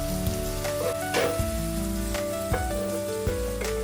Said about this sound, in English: Sauteing for about 2 minutes on medium flame